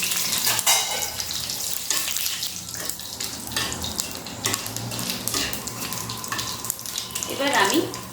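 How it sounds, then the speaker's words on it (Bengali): Bay leaf, dried chili and cumin sizzle in hot oil for a jackfruit curry, a steady close frying crackle mixed with clinks of utensils and a spoon stirring in the pan. "তেল গরম হয়ে গেছে, এবার আমি তেজপাতা দিয়ে দিলাম, শুকনো লঙ্কা দিয়ে দিলাম,"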